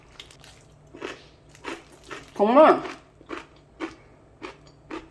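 Minari and radish kimchi crunches loudly in a single bite near the mouth, a sharp, juicy crunch set among short bursts of speech.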